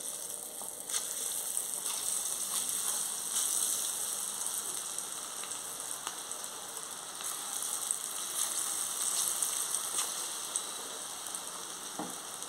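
Crispy pakoras made without gram flour fry in hot oil, giving a continuous bubbling sizzle with scattered sharp crackles and pops, steady and close-up with no voices.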